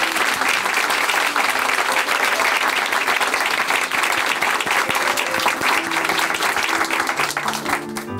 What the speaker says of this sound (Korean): 앞으로 더욱더 전도 많이 하시라고 박수로 힘 실어드리겠습니다.